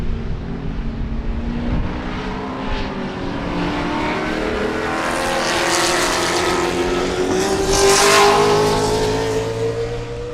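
Spec Corvette race cars roar past on the Sebring circuit, engines droning loudly and steadily and swelling as the cars come close, with no talk over the noise.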